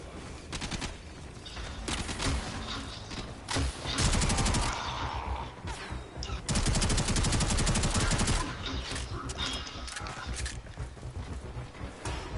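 Guns fire into the air in modded Minecraft, in dense, rapid bursts of shots that come as repeated loud volleys with short pauses between them.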